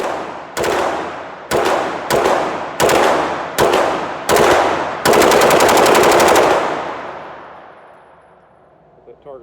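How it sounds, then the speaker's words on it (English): A 9mm rifle upper fires seven loud, close shots, the first six spaced singly in an uneven rhythm and the last a longer rapid burst, each cracking with heavy muzzle blast before the sound rings off into quiet. "The blast from the muzzle pushes it back to where I can't even see it."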